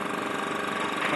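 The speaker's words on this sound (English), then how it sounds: "caustic soda is getting filled in the first container through this motor" A small electric motor on a 6 kg capacity gold refinery machine hums and pulses steadily while pumping caustic soda into a container, close and continuous without talk.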